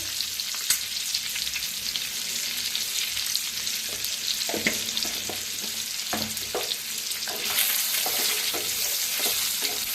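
Eggs frying in a spiced masala of turmeric and red chilli, a dense continuous sizzle with occasional sharp pops and spatula scrapes, close and loud with no talking.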